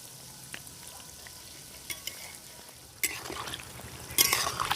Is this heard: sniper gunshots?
no